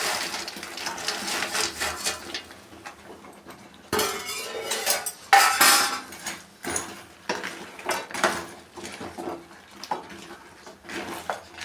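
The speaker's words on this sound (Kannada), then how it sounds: "ಇವಾಗ ನೋಡಿ ಗೋಬಿ ಫ್ರೈನ ಹಾಕ್ತಾಯಿದ್ದೀನಿ." Fried gobi (cauliflower) pieces going into a home-cooking pan for sauce-free gobi manchurian, with repeated metallic clinks and scrapes of a spoon against the pan in an uneven rhythm, close and fairly loud, with no voices.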